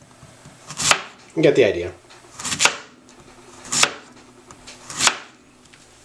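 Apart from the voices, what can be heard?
knife slicing zucchini into thin pieces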